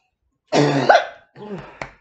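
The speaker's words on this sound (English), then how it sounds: "Excuse me, smoker's cough." A harsh, raspy cough bursts out close up, followed by a couple of shorter rough coughs trailing off.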